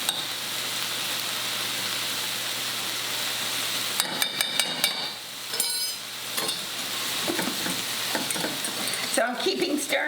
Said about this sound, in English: I'm keeping stirring this because I got to keep stirring this before, and it will thicken